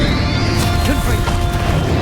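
Confringo fire blast spell from a wizard combat game, a dense, loud burst of crashing impact noise with whooshing texture filling the whole stretch, no talk.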